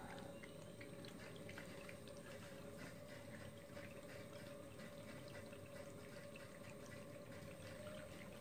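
Steady liquid gurgling and bubbling with constant fizzing underneath from homebrewed beer in a keg during filtering, continuous and close, no voices.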